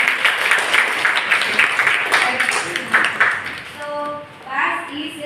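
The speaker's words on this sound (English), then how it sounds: "Clap hands for that." A group in a nursing classroom claps hands together, a dense, steady patter of many hands lasting several seconds before fading, with voices and a brief tonal sound near the end.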